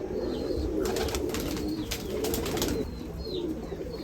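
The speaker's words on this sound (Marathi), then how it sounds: "हा त्यांचा एक कबूतर आहे लालचिना" A Lalchina breed pigeon coos in Nashik, low murmuring calls running through steady broadband background noise, with some brighter chirps higher up.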